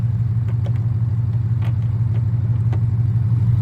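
A 800-horsepower Mustang engine idles with a deep, loud, steady low rumble close by, with a few faint clicks and knocks over the drone.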